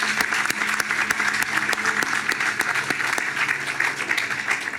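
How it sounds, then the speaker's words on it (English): Crowd applause at a Caltrain electrification groundbreaking event, dense steady clapping from many hands throughout, moderately loud and without speech. "Let's give them a round of applause."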